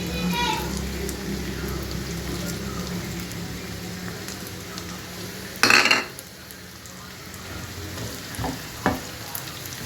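Onions fry with whole spices in a steady, rain-like sizzle close by, interrupted by one loud stirring clatter, with a voice talking faintly over the cooking.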